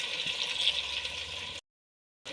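Water pours into a brinjal curry (kathirikkai kadayal) simmering in a pan, a short, close hissing splash that runs for about a second and a half, then cuts to silence before resuming briefly.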